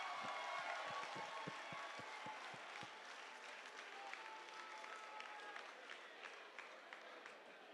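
Audience applause fills a hall during a carnival enthronement ceremony, with a few sharp individual claps at first, then a steady, slightly fading wash of clapping and faint crowd murmur.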